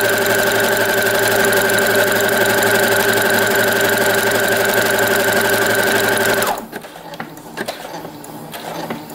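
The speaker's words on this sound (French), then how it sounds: "la boutonnière se fait automatiquement par la machine à coudre" A sewing machine stitches a buttonhole automatically, a fast, even, loud mechanical whirr for several seconds that stops abruptly, leaving only faint scattered clicks and handling noises.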